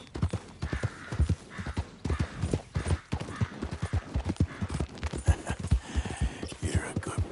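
A horse galloping in a video game's story mode, with rhythmic, close, heavy hoofbeats pounding in quick repeating clusters and a brief whinny-like sound, with no talk over it.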